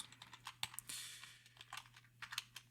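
Code being typed on a computer keyboard, quick irregular clusters of crisp key clicks close to the mic with short pauses between bursts and a low steady hum underneath.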